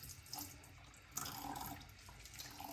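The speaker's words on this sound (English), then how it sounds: "ready for a warm rinse" Warm water runs from a tap during a post-shave rinse, a soft, steady faint stream with light splashing into a sink, no talk.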